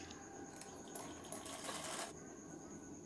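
A sewing machine stitches a blouse with a faint, soft rapid whirring and ticking that rises briefly in the middle and then eases off. No one speaks.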